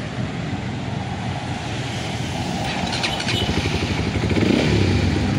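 A Flash 150X hybrid motorcycle engine starts and idles with a steady low rumble, growing louder and rougher toward the end as it revs up.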